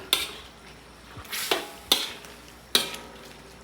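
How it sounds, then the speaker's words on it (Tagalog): A spoon stirs chicken stew with tomato paste in a pot, giving a few sharp clinks and scrapes against the metal at uneven intervals, with quiet simmering between them. "hinalo-halo ko muna maigi para mas maganda"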